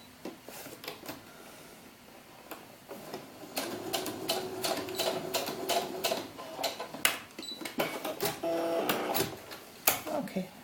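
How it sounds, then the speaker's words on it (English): A sewing machine stitches lace onto the bottom of a doll's historical ball gown sleeve in quick rhythmic bursts of clatter, pausing and restarting, with quiet background sounds between runs. "I'm going to go ahead and sew it from the right side so I can see exactly what I'm sewing"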